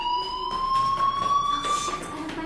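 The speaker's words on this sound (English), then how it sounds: "do you hear that fire alarm? That means you should be outside." A fire alarm in the Life is Strange video game, a continuous electronic tone that rises slightly in pitch and holds steady, loud and constant for the full stretch, with pulsing background noise and no speech.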